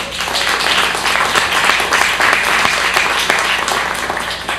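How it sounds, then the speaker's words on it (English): A church congregation claps loudly and steadily for its volunteer camera and recording crew, a thick, close burst of many hands sustained throughout with crowd noise mixed in. "give them a hand clap"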